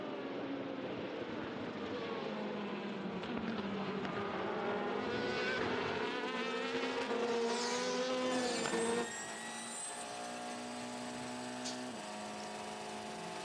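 Race cars overtaking at high speed on an endurance circuit, high-pitched engine whines that climb and swell as cars pass close, then a sharp drop as one pulls away, with lower engine tones lingering after.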